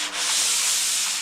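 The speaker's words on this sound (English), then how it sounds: "Right now I'm just lightly sanding off some of this sealer that I've got on here" Sandpaper lightly rubs sealer off a handmade Great Lakes surfboard in one steady, close, hissing stroke with no talk over it.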